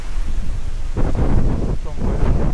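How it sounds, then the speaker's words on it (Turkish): Strong wind gusts roar through a forest on the walk up to Pena Palace in Sintra, buffeting loudly and close, with someone talking briefly over the blustery noise. "Yani çok aşırı rüzgar var."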